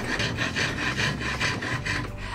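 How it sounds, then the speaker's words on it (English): Farrier's rasp shaping the curves of a wooden axe handle, a steady rhythmic rasping of about nine strokes back and forth, close and fairly loud with no talk. "Again, I was using the Ferrier's rasp for this."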